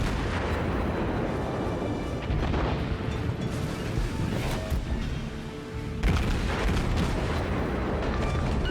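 Naval gunfire and explosions roar in the warship battle game World of Warships, a dense, continuous barrage of loud booms and rumbling blasts with sharp bursts near the middle and end, with no talking.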